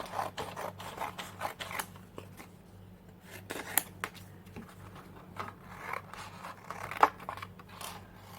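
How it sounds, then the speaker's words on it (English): Small curved nail scissors fussy-cutting paper flowers, heard as a string of quiet close snips and rustling paper scrapes at an uneven pace, under a low steady hum. "for the fussy cutting I'm using nail scissors"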